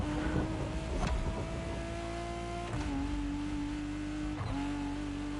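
A Lotus V6 engine from The Crew Motorfest hums at a steady high pitch, with brief gear-shift dips between sustained drones and no voices.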